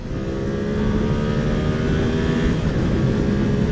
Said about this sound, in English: We're gonna downshift and rev her up a little bit.